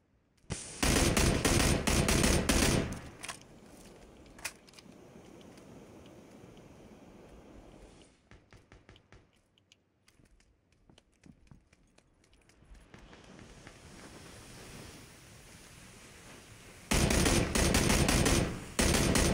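Sustained automatic gunfire in PUBG during a friendly-fire moment, loud rapid bursts at the start and end with quieter scattered shots and ambient noise in between, no clear speech.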